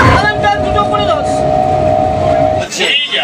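A local train in West Bengal rumbles along with a steady sustained tone from the rails or carriage, a busy carriage ambience under prominent talking voices throughout.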